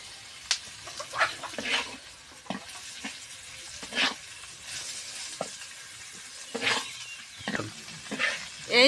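Fish frying in oil for crispy jhuri bhaja, a quiet bubbling sizzle broken by irregular scraping stirs of a spatula against the pan.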